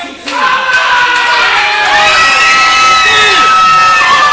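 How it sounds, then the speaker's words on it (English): A loud wrestling crowd at a CCW event cheers and shouts for the Sicilian Cowboy, with children's high yells and whoops rising over a dense, continuous roar close by. "Listen to this crowd. They love the Sicilian Cowboy."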